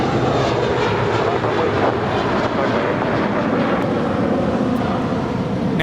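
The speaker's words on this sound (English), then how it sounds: "Now departing at a rate of 60 frames per second, this is Blue Carpet Treatment departing to JFK, flight 324 with JetBlue Airways" A JetBlue Airbus A321 departs from LAX bound for JFK with a loud, continuous, rushing engine roar and some wind buffeting, steady for the whole stretch.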